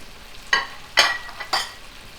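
Shrimp and tomato frying in a pan for linguine with arugula, a quiet sizzle broken by three loud scraping stirs spaced about half a second apart.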